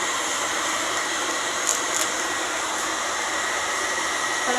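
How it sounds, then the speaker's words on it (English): Hair dryer blowing steadily to dry salt wash chalk paint on a wood hutch window, a constant loud whooshing hiss with no pauses and no speech. "I'm going to really quickly blow this dry."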